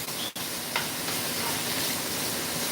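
Thin slices of beef for Chinese pepper steak simmer in a pan, giving a loud, steady sizzle and hiss with one brief dip near the start.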